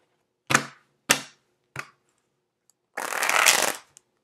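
Three quick riffle bursts of tarot cards, then a longer, fuller shuffle rush lasting about a second, close and crisp with brief silences between.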